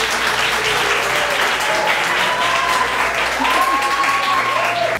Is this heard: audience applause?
yes